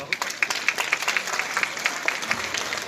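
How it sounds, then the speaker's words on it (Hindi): Loud, dense applause from a talent show audience fills the whole stretch, sustained clapping with sharper individual claps popping out in an irregular rhythm. "एक बार जोरदार तालियां हो जाए।"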